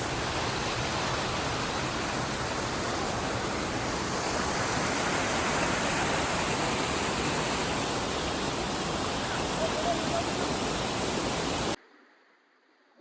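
Water gushes from under a mountain in Kashmir's Gurez Valley, a steady, full, hissing rush like a waterfall heard up close that runs unbroken, then cuts off abruptly near the end.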